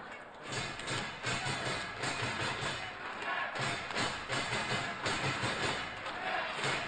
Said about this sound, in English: So the crowd here in Seoul loving this.